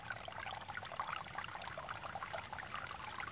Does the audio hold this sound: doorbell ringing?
no